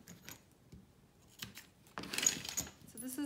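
Fabric pocket liners and zippers for a sewn clutch are handled close by, giving soft rustles, light metallic clicks and a short zipper rasp, with scattered quiet taps between.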